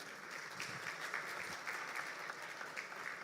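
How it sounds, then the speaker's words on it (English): An audience applauding at an official launch event: a steady patter of many hands clapping, soft and somewhat distant, throughout. "I saw you were giving me a round of applause."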